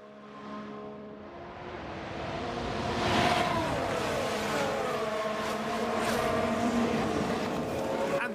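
Ferrari Formula 1 race car at the 2022 Bahrain Grand Prix, its engine screaming as it passes, a loud sustained high-revving whine with shifting pitch and other cars roaring in the background.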